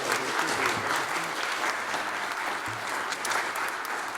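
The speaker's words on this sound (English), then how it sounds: "Let's give these students a round of applause" An audience applauds a group of students with dense, even clapping that holds steady for the whole stretch, without voices on top.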